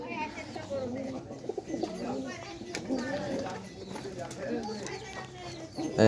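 Caged pigeons make soft, low, rolling coos close by, repeated over a murmur of background noise and a few faint knocks.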